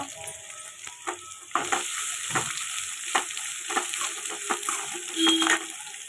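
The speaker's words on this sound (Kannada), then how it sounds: "3 ಈರುಳ್ಳಿ ಹಾಕ್ಕೊಂಡಿದ್ದೀನಿ. ಹಾಕ್ಕೊಂಡು ಚೆನ್ನಾಗಿ ಫ್ರೈ ಮಾಡ್ಕೊಬೇಕು." Three onions fry in hot oil with curry leaves for a masala dosa filling, giving a constant close sizzle broken by frequent scraping and stirring clatters of a utensil in the pan.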